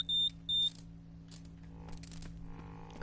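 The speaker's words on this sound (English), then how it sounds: "See, everything's beeping and bonging" Electronic beeps from a Dreams video game being tested: two short sustained high tones in quick succession, then quieter scattered blips and bongs over a low hum.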